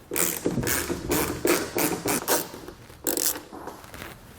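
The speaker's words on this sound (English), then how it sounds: "We're going to remove the frontmost bolt, the fourth from the front, and the very last using a T40 Torx socket" A socket ratchet with a T40 Torx bit loosens bolts during a soft roll-up tonneau cover install on a 1989 Chevrolet pickup, giving repeated short, close clicking bursts in an uneven rhythm with brief pauses.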